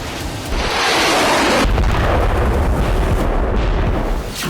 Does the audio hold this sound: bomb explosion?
yes